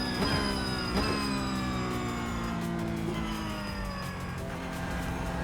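A Porsche Cup race car engine in iRacing winds up through the gears, each high rising whine stepping down and climbing again, loud and steady close by, with no talk.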